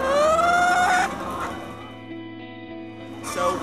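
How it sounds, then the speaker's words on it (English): Free-range hens in a barn: a loud drawn-out rising squawk followed by a busy murmur of clucking from many birds, then another sharp call at the end, close and dense. "This is a free-range bird."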